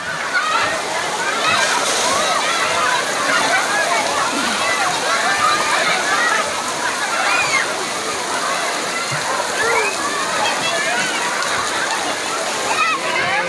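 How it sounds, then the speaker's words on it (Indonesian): Continuous loud splashing and churning water as waves roll through a wave pool, with crowd voices mixed into the wash. "ombak, kolam ombak. Nah, sebentar lagi akan besar ombaknya."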